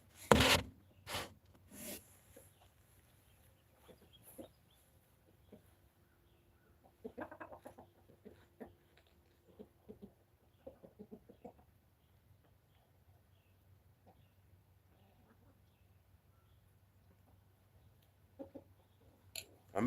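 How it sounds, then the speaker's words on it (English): Small young chicken hens clucking in a backyard flock, with scattered short clucks and rustling near the start and in bursts around the middle and end, mostly quiet between. "It's a little chicken, little small one."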